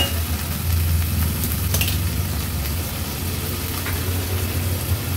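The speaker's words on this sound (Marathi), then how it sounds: "तांदूळ व्यवस्थित मीडियम फ्लेमवर तुपावर परतून घ्यायचे आहे।" Washed basmati rice fries in ghee over a medium flame, a steady close sizzle with soft stirring scrapes and a low rumbling hum underneath, no voices.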